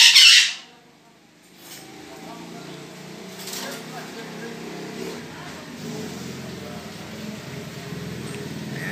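A pet parakeet lets out a single sharp, loud squawk at the start, followed by a low, steady ambient hum.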